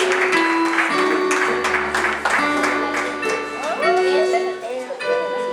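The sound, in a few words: wedding guests applauding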